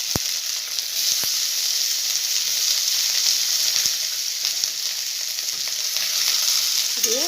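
Chopped tomato goes into ginger-garlic paste frying in oil with bay leaf and is stirred in, producing a steady, close sizzle with light scraping from the stirring throughout.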